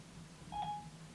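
A mobile phone gives a single short electronic beep, clear and close, in an otherwise quiet room.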